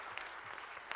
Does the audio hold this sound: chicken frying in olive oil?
no